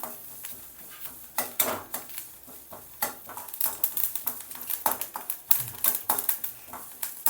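Damp sesame seeds roast over a medium flame in a pan for pulikaichal while being stirred, giving irregular scraping and clinking of a spoon against metal with light crackles and sizzle, alone and fairly close.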